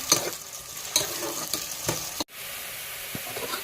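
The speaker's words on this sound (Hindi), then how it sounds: "और अब हम थोड़े से प्याज़ों को ज़रा सा ब्राउन करेंगे" Steady sizzling of something frying in hot oil, with a few soft stirring clicks, close by and fairly quiet.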